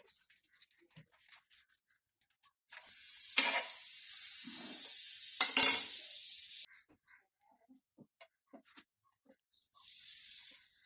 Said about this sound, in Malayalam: ഈ രീതിയിൽ ഉള്ളുവശം ഒന്ന് ഫ്രൈ ആക്കി എടുക്കുക